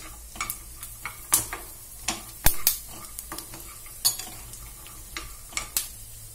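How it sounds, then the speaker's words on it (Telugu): Peanuts dry-roasting in a pan while a spoon stirs them, with irregular scraping and sharp clinks of metal against the pan and nuts rattling, close up with no talking. "ఇలాగా పల్లీలని వేయించుకోవాలి"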